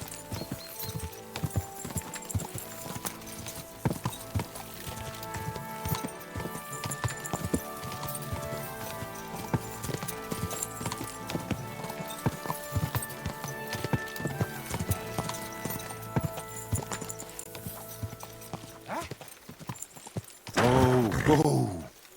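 Horse hooves clip-clop steadily at a gallop on a road in the medieval game Kingdom Come: Deliverance 2, a continuous rhythmic beat close up, with a brief whinny near the end.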